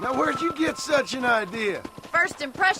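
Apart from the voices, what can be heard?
No distinct noise like a dog, phone or traffic.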